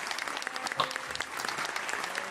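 Canned applause sound effect played during a live stream, a continuous bed of crowd clapping heard fairly quietly, as if through a mic, with a brief voice near the start.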